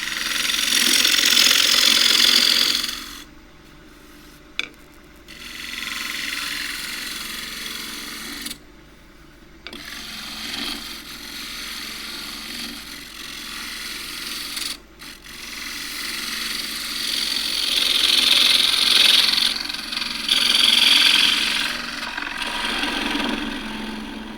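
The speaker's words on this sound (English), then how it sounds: "I should be even able to take a shear cut across the bottom." A gouge taking a shear cut across the bottom of a warped box elder plate spinning on a wood lathe, a hissing cutting sound in several passes with short pauses between them, over a low motor drone.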